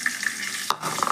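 Sesame seeds fry in oil in a pot over low heat, a close, continuous soft sizzle with faint crackles and a brief stirring scrape.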